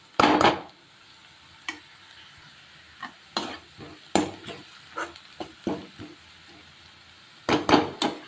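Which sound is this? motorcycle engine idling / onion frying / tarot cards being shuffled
onion frying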